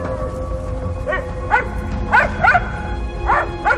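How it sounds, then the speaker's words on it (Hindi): A small dog barks and yips several times in short bursts, fairly close, over a steady low background hum. "जहां से पॉमी के भौंकने की आवाज आ रही थी।"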